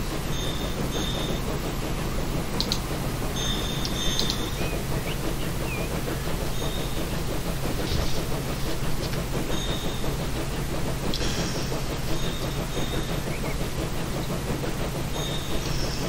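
A steam train on the Metropolitan Railway's Uxbridge branch in 1912, in Transport Fever 2, rumbles steadily with rhythmic wheel clatter and a few brief high hisses and squeals over a constant low drone.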